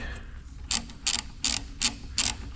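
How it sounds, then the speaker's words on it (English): A small ratchet runs a bolt in during differential reassembly, making bursts of rapid metallic clicking in five or six short strokes over a low workshop background. "I'm just going to run it in with a small ratchet"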